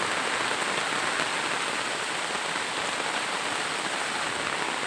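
Steady rain pours onto a flooded, water-filled paddy field, a dense, continuous hiss of drops hitting the water's surface, loud and even throughout with no voices.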